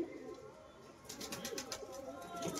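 A female pigeon held in the hand during a close inspection of its eye ring and feet, giving soft low coos and faint wing flutters at close range, with a brief rustle of feathers and handling noise.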